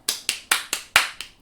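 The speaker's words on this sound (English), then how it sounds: "Clapping myself." A single person claps their own hands six times in a steady rhythm, each clap sharp, close and clear with short gaps between, and no talk over it.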